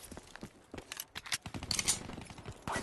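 Pistol fire from an M1911 in Black Ops 3 Zombies, several sharp shots in an uneven rhythm mixed with other game noise, with no talking.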